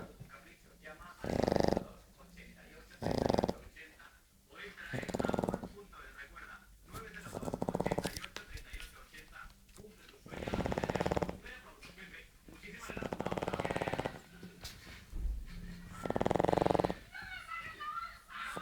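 A dog snores close by in loud, rhythmic bursts that rise and fall every couple of seconds.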